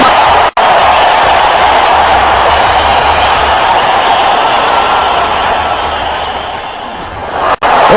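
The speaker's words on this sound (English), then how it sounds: "the crowd has gone berserk here, lots of Indian supporters" A large crowd of Indian supporters roars and cheers continuously at a cricket World Cup final between India and Australia after a boundary four, loud and dense throughout with brief dips.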